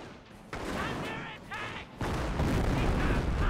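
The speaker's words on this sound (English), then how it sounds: "Nice incendiary mortar." Incendiary mortar fire in the Company of Heroes real-time strategy game, loud booming artillery blasts that roll into sustained crackling rumble, with a sharp new impact midway.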